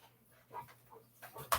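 A dog pants softly with brief whimpering sounds in a quiet room, faint at first and rising near the end, with no talking.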